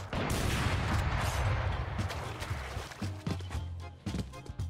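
Gunfire in a hide-and-seek shooter video game: a dense burst of loud close shots at the start, then scattered sharper reports and thuds trailing off.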